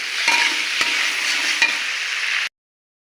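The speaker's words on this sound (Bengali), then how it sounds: "কুঁদরি আলু একসঙ্গে এগুলো ভালো ভালো করে ভেজে নেবো, একদম ভালো করে।" Ivy gourd and potatoes frying together in a pan, a loud, close, steady sizzle with a few sharp spatula scrapes and stirs, stopping abruptly into silence.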